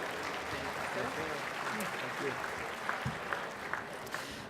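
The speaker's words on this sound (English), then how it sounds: "let's give a round of applause for Mayor Rawlings Blake" Luncheon audience applauding a mayor at a city livability awards event, a dense, steady clapping from a crowd indoors, moderately loud, with some voices mixed in beneath.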